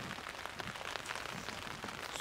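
Rain pattering steadily on a surface outdoors during a sunshower, with close, dense drops spread evenly and no talking.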